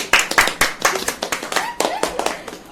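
A small group clapping for the winner of a balloon-and-cup party game at home, a quick run of close, uneven handclaps lasting a few seconds.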